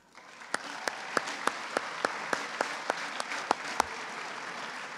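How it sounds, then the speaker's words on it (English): Faint, slow clapping at a high school varsity sports celebration, a dozen or so evenly spaced claps over a hushed room background, fairly distant. "please give a round of applause to Khalees Johnson and the entire committee again for tonight"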